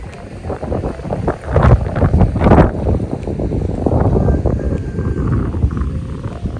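Strong wind roaring across a mountain summit in Kanchanaburi, Thailand, buffeting the microphone with loud, continuous gusts throughout.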